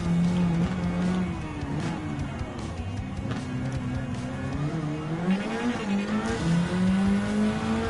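A race car in Gran Turismo 7 runs at full throttle through a curved straight, its engine droning loudly and steadily with rising and falling pitch and faint tire squeal, constant throughout.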